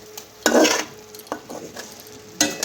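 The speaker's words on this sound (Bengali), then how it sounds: "এটা দিয়ে ভালো করে আলুটা আর মাছটাকে আমি মিশিয়ে নেবো" A spoon scrapes and stirs potato pieces and prawns through spice masala in a cooking pan, producing a few separate scraping strokes with a quiet sizzle between them, close and clear, with no talking.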